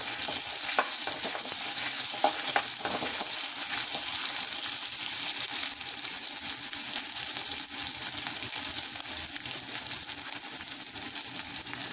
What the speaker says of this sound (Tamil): இது நல்லா தாளிச்சிக்கலாம், நல்லா வதக்கிக்கலாம் ப்ரௌன் கலர் ஆகிற வரைக்கும்